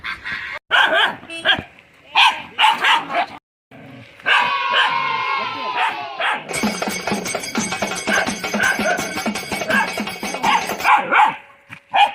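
A village dog barks in short repeated bursts, near and loud, interleaved with people talking and a brief stretch of higher yelping or birdlike calls partway through.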